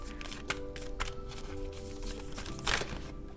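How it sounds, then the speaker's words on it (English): Tarot cards shuffled by hand, a soft continuous riffle and crinkle with small taps and a sharper flick near the end, close but quiet over a low background hum. "I'm gonna give it one more shuffle"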